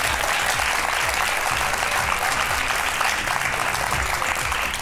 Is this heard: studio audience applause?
yes